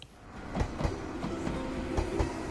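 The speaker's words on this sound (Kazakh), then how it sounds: "Естідің бе? Пойыз келді." A train rolls along the rails with a rhythmic clickety-clack of wheels over joints, steady and fairly close, heard alone without talk.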